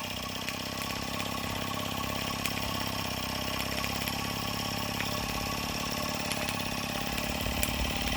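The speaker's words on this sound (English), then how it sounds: "What a beautiful engine." A Rocking Whale RW-BL1K live steam engine kit, fired by a burner heating a copper boiler, runs in a steady, fast mechanical chatter with a continuous hum and occasional sharp ticks, moderately close and unbroken, with no talk.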